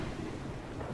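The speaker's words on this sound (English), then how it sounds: "Oh, hello thunder." Thunder in Minecraft, rolling as a steady, loud low rumble that fills the whole second without a break or any voice over it.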